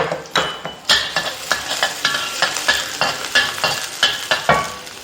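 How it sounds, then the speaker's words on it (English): Garlic frying in ordinary cooking oil in a home kitchen wok, with a steady sizzle broken by repeated scraping stir strokes of a utensil against the pan, close and fairly loud, without any talking. "add oil, just the normal cooking oil. First goes in the garlic."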